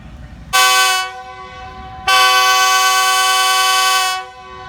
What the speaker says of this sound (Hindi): डिपार्चर विसल हो चुके हैं।